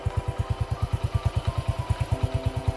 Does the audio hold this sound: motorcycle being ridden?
yes